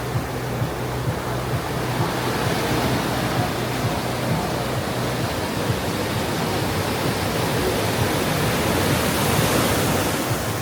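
Steady broadband roar of wind and surf rolling onto a Bali beach, continuous and fairly loud with no voices or music.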